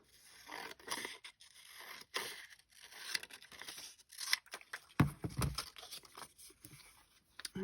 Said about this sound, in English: So I'll just cut it right in half.